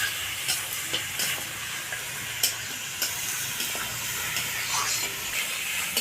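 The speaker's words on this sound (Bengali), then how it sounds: "মাংসটা দেওয়ার পর আমি কিছুক্ষণ ভেজে নেব" Goat meat frying with spices in a pan, a continuous close sizzle with occasional sharp pops and clinks of stirring.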